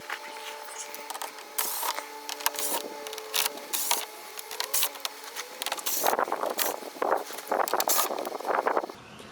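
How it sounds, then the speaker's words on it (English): Ten-millimetre bolts come off the plastic underbody shield of a 2026 BMW G82 M4 Competition as a ratchet clicks in quick bursts, mixed with scraping, rattling and knocks from tools and loose fasteners close by. "there's a bunch of 10mm bolts along here that you need to undo, and then some more 10mm bolts to undo this plastic factory shield"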